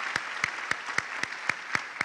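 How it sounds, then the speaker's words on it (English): Slow, evenly spaced claps, about eight sharp hand strikes in two seconds, close and clear, as a university e-learning week audience claps for a guest alumnus. "Clap for him for me, please."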